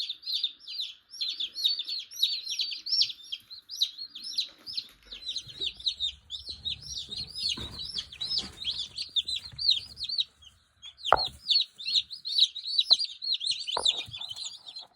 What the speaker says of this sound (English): that's 13 healthy chicks put in there